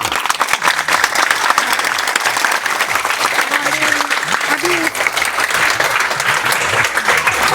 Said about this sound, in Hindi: ताली मार दीजिए एक बार।